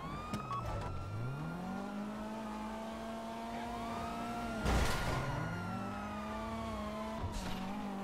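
Police cars chase in GTA Online with wailing sirens sweeping up and down, engines roaring and tires squealing, a thump of impact midway, loud and close with no talking.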